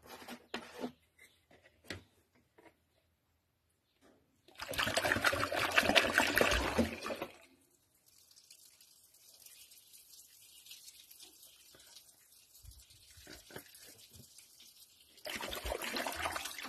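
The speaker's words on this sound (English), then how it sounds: "Flush it out with the rainwater." Rainwater pours and trickles while flushing the engine of a Peugeot 505 GLD XD3 during a cylinder head gasket job, coming in a loud splashing burst, then a faint steady dribble, then another strong pour.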